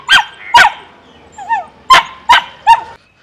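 A dog barks five times in sharp, loud, close bursts, with a short whining yelp in the middle, and a quiet background.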